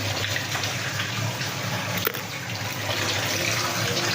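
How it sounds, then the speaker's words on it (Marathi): Colocasia leaves are washed under a running kitchen tap, a steady, close rush of splashing water that continues throughout, with no talking. "स्वच्छ धुवून घ्यायची पानं"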